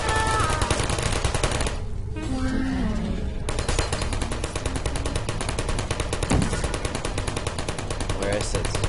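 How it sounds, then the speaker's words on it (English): Rapid automatic gunfire fills the room in the video game Portal, a steady dense stream of shots that briefly drops out near the two-second mark and then resumes just as loud; voices talk intermittently over it. "I see you're shooting at me."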